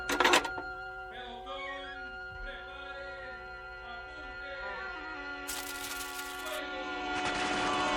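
Gunfire in a radio drama, a short clattering burst of shots followed by a long, faint droning tone and then a couple of bright hissing bursts, with no voices.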